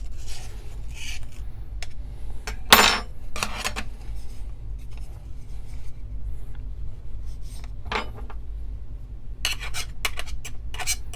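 Ground coffee from a DF64 grinder being shaken through a fine screen gives soft, scattered rasping and scraping bursts, with a few sharper clatters against a low steady hum.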